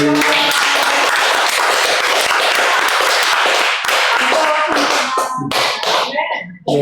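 A church congregation applauds for a boy and members celebrating July birthdays, a dense, loud wash of many hands clapping close by, sustained for several seconds before thinning out into scattered last claps.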